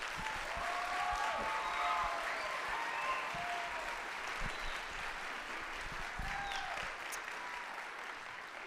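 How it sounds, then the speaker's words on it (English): An audience applauds at a youth choir concert in Hastings, with sustained, dense clapping from a crowd indoors and a few faint cheers, gradually tapering slightly toward the end. "Let's give them one more round of applause."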